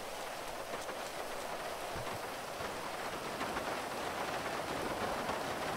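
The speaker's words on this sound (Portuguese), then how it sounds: "tá chovendo muito" Heavy rain in the video game GTA 5, during a zombie apocalypse scene in a blacked-out city: a steady, dense hiss of downpour that stays even and constant throughout, with no voices over it.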